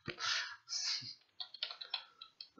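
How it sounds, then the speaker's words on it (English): Keys clatter on a computer keyboard while code is entered, with two longer bursts of rapid typing followed by a run of separate, distinct keystrokes, close and fairly quiet. "Gee, what was I typing there?"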